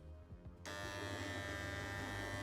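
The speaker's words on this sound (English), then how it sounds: "This is just a much finer wheel." A fine 180 grit sharpening wheel grinding a straight or loop knife blade, a steady high buzzing whir that starts abruptly after a low motor hum and holds constant to the end.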